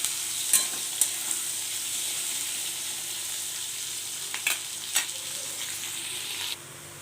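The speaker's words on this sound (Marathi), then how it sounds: "कांदा इथे छान असा परतून घ्यायचा आहे आपल्याला." Chopped onions sauté in a pan for a wedding-style chana chole curry, a steady soft frying hiss with a few sharp spatula scrapes and clicks, close and alone.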